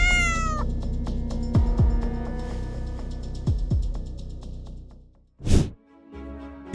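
A cat meows and yowls in drawn-out, wavering cries while defending its territory, loud and close, with a sharp burst of noise near the end.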